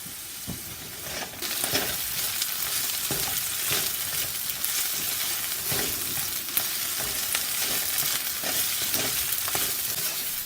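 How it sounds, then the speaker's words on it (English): Chopped garlic fries in a pan and gives off a steady sizzle, with a few sharper stir scrapes and bumps that repeat throughout. "Fry until fragrant."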